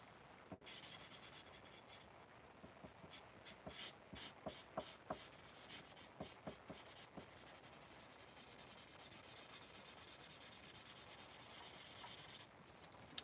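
A chisel-tip marker coloring on paper, giving a faint, scratchy rubbing with quick bursts of strokes through the middle and a steadier rub toward the end, no voices.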